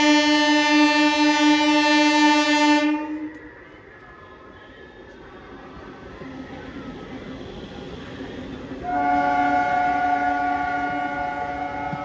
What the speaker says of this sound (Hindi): और अभी गाड़ी आ गई 1 नंबर प्लेटफार्म पर